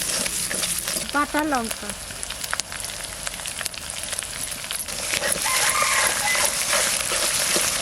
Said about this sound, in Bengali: আদা রসুনটা একটু ভালো করে নেড়ে নেব